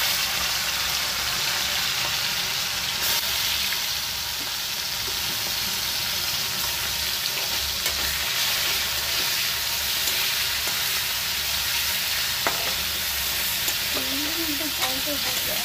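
Prawns frying in hot oil alongside taro paste, a loud continuous sizzle with stirring scrapes over about fifteen seconds, and a faint voice briefly near the end.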